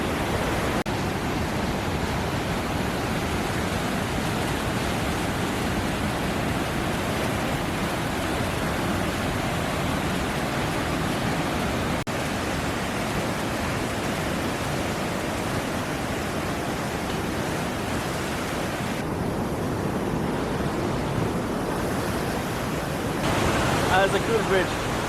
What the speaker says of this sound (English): Just below Lyngseidet, I found these rapids with a bridge in the middle.